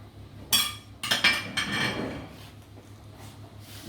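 A metal tray of spice-marinated pork ribs pushed into a very hot oven, heard as a few sharp clanks and clinks of metal on the rack, then softer sliding and rattling that fade into quiet.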